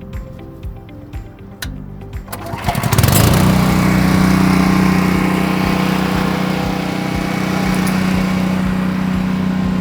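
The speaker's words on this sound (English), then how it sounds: "I'm gonna fire up my, my unit here and get going" A pressure washing unit's small engine is pulled into life after a few quiet knocks, then roars up and settles into a loud, steady running drone close by.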